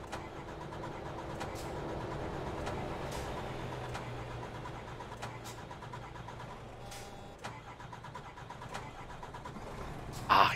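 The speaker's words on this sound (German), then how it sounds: "Ich starte jetzt nur noch per Anlasser." Scania 770S V8 truck engine in Euro Truck Simulator 2, a steady mid-loud rumble with a low drone running through the middle, ending in a brief louder burst at the close; no talk.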